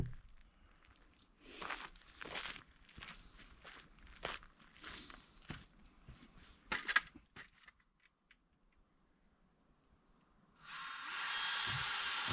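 A brand new drill bit boring through a log runs in a loud, steady power-tool whine for the last two seconds, after a stretch of scattered footsteps, knocks and handling clatter with brief quiet just before.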